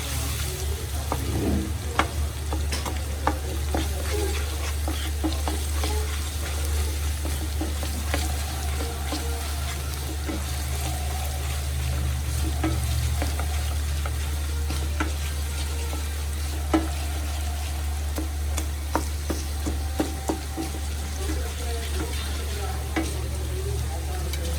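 Crushed ingredients for a beetroot pickle fry in oil with a continuous close sizzle, while a spoon scrapes and taps the pan now and then throughout.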